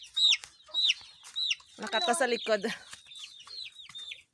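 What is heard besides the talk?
chickens clucking in coop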